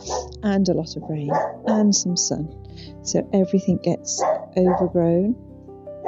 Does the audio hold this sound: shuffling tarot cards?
no